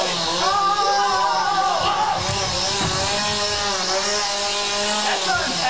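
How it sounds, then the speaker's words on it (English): A chainsaw engine drones steadily throughout, its pitch rising and falling as it revs, loud and close, with people's voices faint beneath it. "Where'd you get a chainsaw?"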